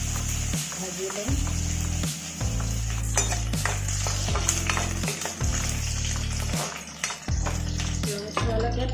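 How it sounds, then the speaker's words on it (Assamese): Onions frying in oil for an Assamese fish and lau curry, stirred in repeated scraping strokes against the pan, with a continuous sizzle and occasional metallic clinks, close and loud without talk. "ৰঙচুৱালৈকে পিঁয়াজখিনি ভাজি ল'ব লাগিব"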